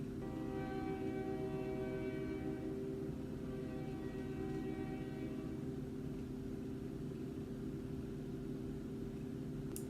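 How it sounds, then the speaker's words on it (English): A train passes close by, its horn blaring in a long, loud harmonic blast before fading into a steady, heavy rumble of rolling wagons that continues alone. "There's a train!"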